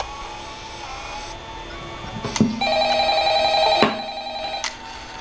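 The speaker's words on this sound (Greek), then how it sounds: "Κάποιος σε παίρνει τηλέφωνο." A telephone rings in the horror video game Five Nights at Freddy's, a loud electronic ring tone sounding in two bursts over a low steady background hum.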